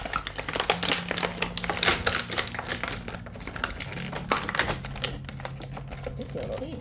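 Stiff plastic packaging from a Mattel Masterverse Princess of Power action figure crackles and crinkles loudly up close, a dense, irregular run of snaps and rustles that continues throughout.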